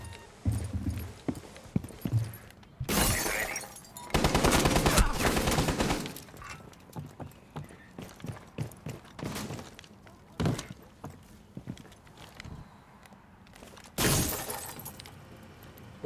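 Gunfire and shattering window glass in Rainbow Six Siege, fired from a rooftop: loud crashing bursts around the middle and again near the end, with scattered lighter impacts and clatter between them.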